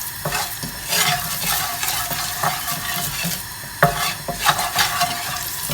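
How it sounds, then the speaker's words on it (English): Steady sizzling and crackling of peppercorns toasting in a hot pan, with occasional sharp pops and the scrape of stirring, close up and continuous. "you're going to actually do it till the peppercorn started like cracking"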